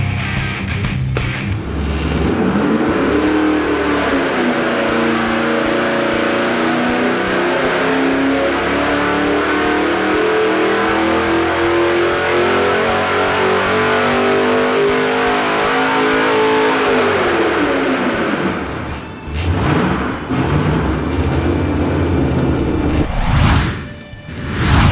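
A supercharged LS3 V8 fitted with a Brian Tooley Racing Stage 3 cam revs hard on a dyno, its loud, close roar climbing and holding for many seconds before dropping away and cutting off near the end, with no talk.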